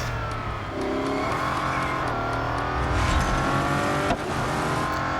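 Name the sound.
car braking in video game Real Racing 3, Bugatti Chiron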